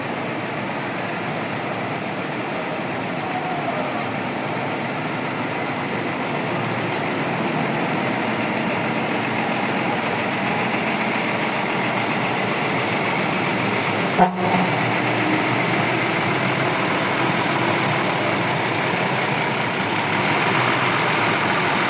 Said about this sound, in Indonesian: Jam 10:02 Dalimas diberangkatkan dari shelter nomor 15 terminal Bungurasi teman-teman.